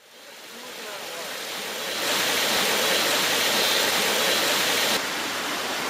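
Water rushes steadily into a simple concrete spring box in the village of La Cabuya, a continuous broadband flow that swells louder partway through and stays constant, with no voices.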